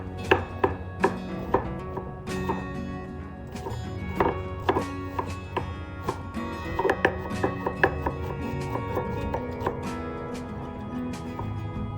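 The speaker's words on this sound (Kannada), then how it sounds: "ಇದಕ್ಕೆ ನಾನು ಒಂದು ಈರುಳ್ಳಿನ ಸಣ್ಣದಾಗಿ ಹೆಚ್ಕೊಳ್ತಿದ್ದೀನಿ." A knife finely chops an onion on a cutting board for a simple raita, producing a quick, uneven series of sharp taps. Soft tonal background music plays underneath.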